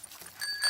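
A cartoon bicycle bell rings in a short, bright ding with a thin sustained metallic tone, close and clear over a faint background.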